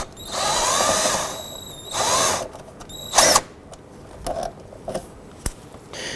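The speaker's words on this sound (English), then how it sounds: "Using a 10mm ratchet, we're going to go ahead and start removing the bolts here that secure the box." A power tool whirs in several bursts while removing bolts that secure the box on a 2007–2011 Honda Civic during transmission mount work. The bursts are followed by sharper clicks and metallic clanks, close up, with no talking.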